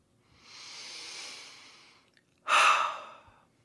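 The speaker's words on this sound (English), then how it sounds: "Continue to breathe slowly and deeply." A person breathes slowly and deeply: a long, soft inhale, a brief pause, then a louder, breathy exhale. The breathing is close and there is no talking.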